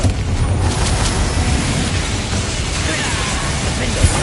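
Confringo blasting spell explosions in Hogwarts Legacy, heavy booming blasts over a dense, loud, continuous battle din, with one sharper burst near the end.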